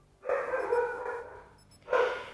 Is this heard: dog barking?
yes